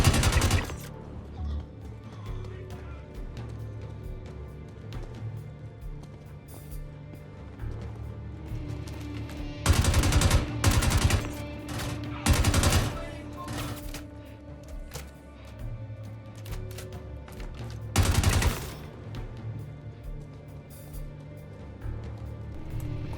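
Gunfire in the Star Citizen video game, a few loud bursts of rapid shots over a steady background hum, with quieter stretches between bursts and no talking.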